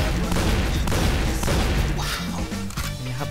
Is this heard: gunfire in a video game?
yes